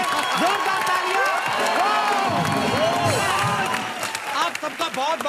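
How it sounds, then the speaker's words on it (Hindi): Studio audience on an Indian comedy talk show applauding and cheering for the Kill Dil film team, a loud sustained wash of clapping with whoops and shouts, voices calling out over the crowd throughout. "एक बार किल दिल की पूरी टीम के लिए जोरदार तालियां"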